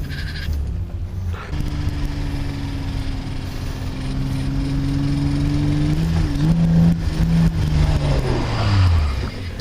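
A car being drifted with the e-brake at an amateur drifting event, its engine droning loudly and rising and falling in pitch as it slides, heard close and continuous with no talking.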